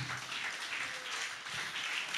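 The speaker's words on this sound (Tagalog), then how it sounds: "Palakpakan po natin ang Lord." A church congregation applauding during a Sunday worship service, a soft, distant wash of clapping that stays low and even for a couple of seconds.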